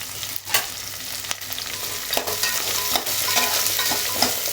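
Small sambar onions and green chili sauté in a hot pan with a steady sizzle, punctuated by occasional scraping stirs of a spoon, close up and with no talking.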